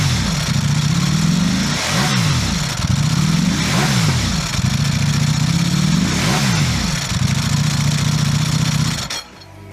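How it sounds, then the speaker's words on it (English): A 2021 Ducati Panigale V4 SP superbike engine revs loud and close in repeated surging blips, each rising and dropping sharply, then cuts off near the end. "The Panigale V4 SP, the iconic Ducati Superbike racing sound."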